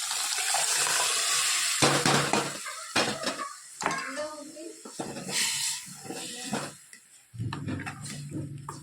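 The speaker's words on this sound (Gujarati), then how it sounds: "હવે આપણે જે દાળ બોઇલ કરેલી છે એ નાખી દઈએ." Boiled dal being added to a hot pan: wet sloshing and pouring mixed with metal ladle and pot clanks, in uneven bursts close by.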